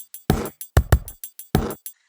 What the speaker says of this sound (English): here's the sound of me just hitting the table with my hand